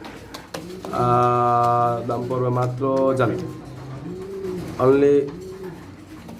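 Spanish pouter pigeons coo in deep, resonant, drawn-out calls close by, several long rolling coos in sequence, with someone talking over and between them.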